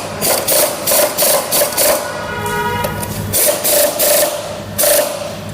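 Two 12 mm bolts on a TVS Apache RTR 160 BS6 front disc brake caliper are tightened with a ratchet, giving a steady run of loud, close, rhythmic ratcheting clicks in repeated bursts.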